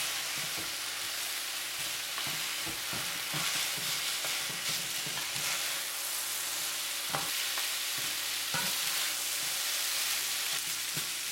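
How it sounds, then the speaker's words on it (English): Stir-fried noodles being broken apart in a pan with asparagus and broccoli, a loud continuous sizzle layered with frequent scraping and tossing knocks from the utensil. "Break the noodles apart."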